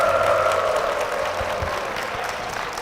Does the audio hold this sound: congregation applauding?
yes